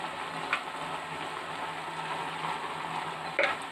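Soft steady sizzling of mutton curry in a pan as chili powder is stirred in, with a couple of faint scraping clicks of the spoon.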